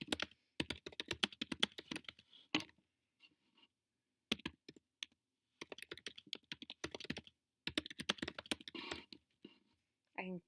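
Bursts of rapid keyboard typing, clattering keys in quick runs separated by pauses, close and fairly quiet.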